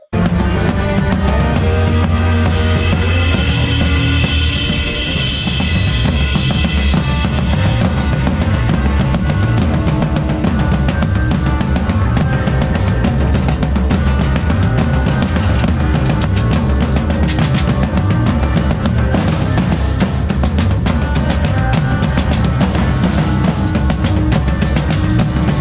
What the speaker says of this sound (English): this is calypso, but I want to shred my guitar.